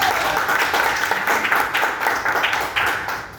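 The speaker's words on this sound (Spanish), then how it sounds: "Demos un aplauso a..." Audience applause at a hospital training event, a close, steady burst of many hands clapping with uneven surges, heard alone.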